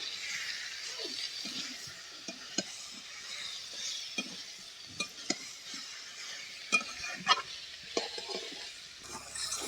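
Green jackfruit and potato are stir-fried in a pan, with a soft steady sizzle under repeated sharp scrapes and clinks of a spatula against the metal.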